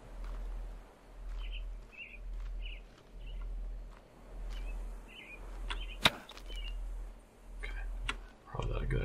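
Birds in the survival video game The Forest give short, repeated chirps at a moderate distance. They sound over a rhythmic, pulsing low ambient drone, with one sharp hit partway through.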